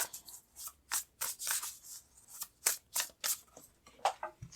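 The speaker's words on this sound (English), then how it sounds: "I'm going to pull out a card here" Tarot cards are pulled from a deck and handled, producing a series of about a dozen close, crisp papery swishes and snaps in an uneven rhythm, with quiet gaps between them.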